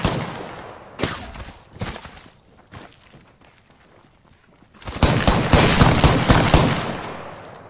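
Shooter-game gunfire comes as a few isolated loud shots and then a dense, sustained burst of rapid automatic fire close by.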